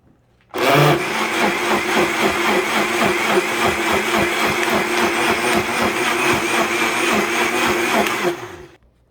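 A Walmart Mainstays 6-speed blender chops apple and ice, running as one loud, steady motor whir with rattling and grinding for about eight seconds before it switches off. It is heard close up, with no talking.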